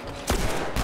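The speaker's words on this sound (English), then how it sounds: "Stop shooting me!" Gunfire in The Last of Us: two sharp shots about half a second apart over a dense, noisy background.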